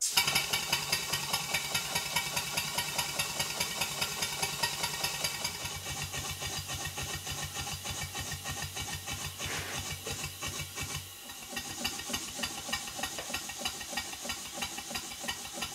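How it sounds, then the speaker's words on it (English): A Stuart 5A twin-cylinder steam engine runs on compressed air, puffing in a fast, steady exhaust beat with a hiss, then briefly pauses and restarts in the opposite direction with a slightly changed rhythm. "Now the engine is all back together, it's time to give it a test run."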